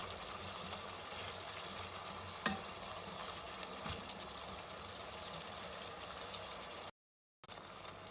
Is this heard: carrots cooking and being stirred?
yes